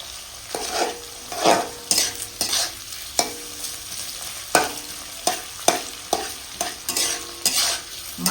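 Onions frying in a pan for a pressure-cooker mutton curry, sizzling steadily with repeated scraping stirs of a spatula in an uneven rhythm, close and moderately loud, with no talking.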